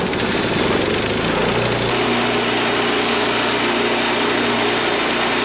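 Engine-powered sawmill cutting timber at an off-grid cabin site, a loud, close engine roar that runs without a break, its pitch and load shifting partway through the cut.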